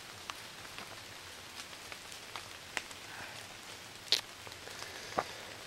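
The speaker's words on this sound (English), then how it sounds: "Rain's getting worse, I think." Steady rain falling on and through a tree outdoors, a dense close hiss with scattered louder drips and drops landing nearby, no talking.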